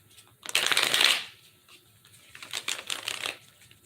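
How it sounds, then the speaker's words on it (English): Tarot cards are shuffled twice in quick riffling bursts close up, the first louder and longer, with a short pause between. "Okay, I'm going to shuffle 4 times."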